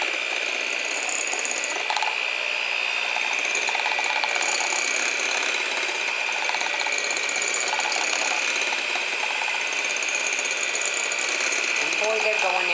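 Electric mixer whirring through strawberries for a cake batter, a steady high mechanical whine with rattling, close and sustained throughout.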